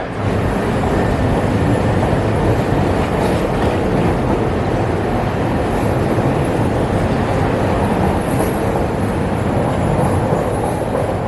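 A loud, steady rumble of a Chicago Pride train in motion, with continuous rattling and wheel noise filling the whole stretch, no voices.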